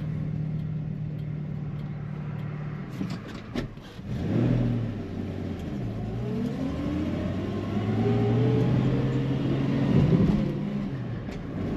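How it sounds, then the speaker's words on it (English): A 1968 Ford Mustang's straight-six engine runs close by, rising and falling as it revs and settles back to a low, steady rumble. "This car featuring a straight 6 engine with a 3-speed manual on the floor"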